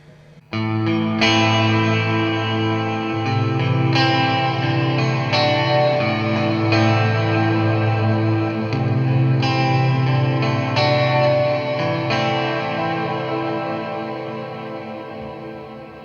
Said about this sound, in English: what decay on max would sound like with the biggest echo setting